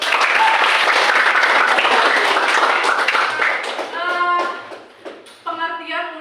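A classroom breaks into dense applause from many pupils, steady and close for several seconds, then thins into scattered claps as a voice speaks.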